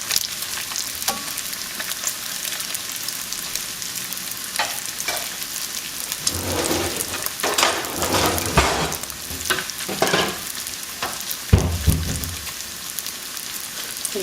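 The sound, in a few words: bacon frying crispy in pan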